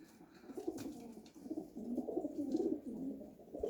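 Racing pigeons coo continuously at close range during an arrival check after a race, a low throaty burbling that swells and overlaps, with faint rustling in the background.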